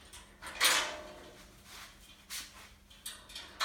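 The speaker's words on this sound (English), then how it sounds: "The latches are engaged" Latches engaging on a TriStack SR1000 multi-stack cross brace, a few sliding scrapes and clunky metallic clicks, one louder near the start and several shorter ones after, fairly quiet and close.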